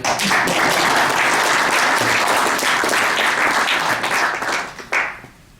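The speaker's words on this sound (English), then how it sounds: "This is your cue to give me a warm round of applause." A live audience gives a warm, sustained round of applause at a public speaking event, dense and steady clapping filling the room before tapering off and fading out near the end.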